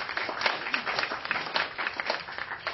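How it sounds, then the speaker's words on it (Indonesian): An audience at a live debate applauds the five speakers: a steady wash of many hands clapping, moderately distant and even, lasting a few seconds. "kita beli aplaus dulu kepada 5 pembicara kita"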